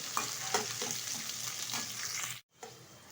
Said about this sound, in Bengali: উচ্ছেটা কিন্তু নেড়ে চেড়ে লাল লাল করে ভেজে নিয়েছি